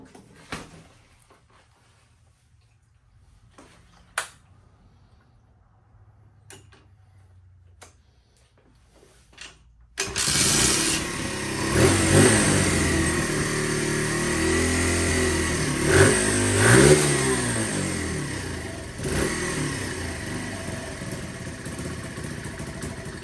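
Lifan Pony 100cc motorcycle, a 2015 model, is kicked over with a few faint clicks and taps before the small engine starts abruptly and settles into a loud, close, steady idle with slight wavering.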